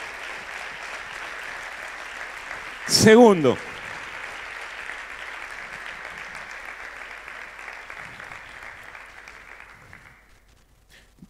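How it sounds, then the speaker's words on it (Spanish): A church congregation at a Sunday service claps in a steady, even wash of applause that slowly thins and fades out. A brief whistle cuts through near the start, and a voice speaks. "Apláudanles con un gran aplauso"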